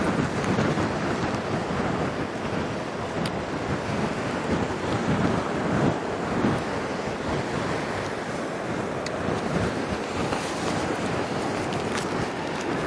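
Strong wind gusts and roars continuously across the microphone at an outdoor wedding on Kauai, a loud rushing blow with buffeting, and no voices.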